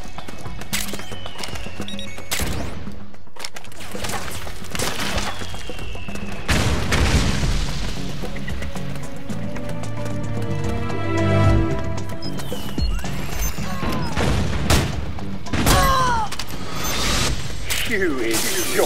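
Gunfire and explosions ring out in the video game Metal Gear Solid 4: Guns of the Patriots, with sharp bursts and heavy booms repeating close and loud over a dense, busy game soundtrack.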